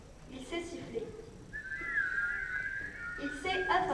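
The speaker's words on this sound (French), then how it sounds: "Il sait siffler." A sustained whistled tone holds steady for a couple of seconds, with talk before and after it and a brief higher whistle near the end.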